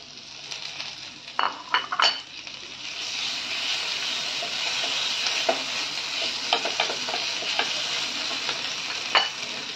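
Onion frying with garlic and ginger paste for a prawn curry, a steady close sizzle broken by repeated spoon-on-pan clinks and stirring scrapes, with no talking.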